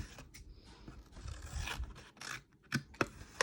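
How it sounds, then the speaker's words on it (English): Scissors snipping through a paper holder at an angle, a few short close rasping cuts and rustles separated by brief pauses, faint and without talk. "Now take your scissors, and we're going to cut from this corner to that corner"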